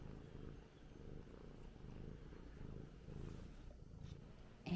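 A small female house cat purring steadily and close, a soft continuous low rumble with gentle rhythmic pulses of breathing, alone without talk.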